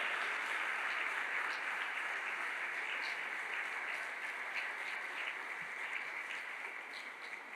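Quiet, steady applause from a church congregation at a Spanish-language service, a soft continuous patter of many hands, distant and fairly faint, fading slightly toward the end.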